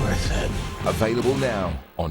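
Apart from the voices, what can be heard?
No everyday noises stand out.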